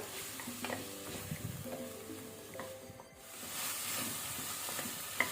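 Vegetables frying in a spiced oil tempering for veg pulao, with a steady close sizzle, brief stirring scrapes and light clinks, dipping for a moment before the hiss returns.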